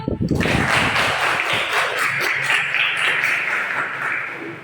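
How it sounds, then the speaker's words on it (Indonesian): Students in a classroom applaud during a biology lesson, with loud rapid clapping from a group that starts abruptly and holds steady, and voices mixed in with the clapping. "Tepuk tangan dulu."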